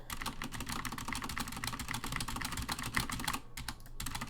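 Rapid, dense clacking of keys being mashed on a computer keyboard, a continuous flurry of close, crisp strikes with a brief lull near the end.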